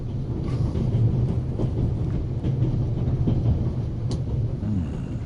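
A train interior in a video game fills the scene with a continuous low rumble and a dense rattling wash, steady and even in loudness, with a few faint clicks.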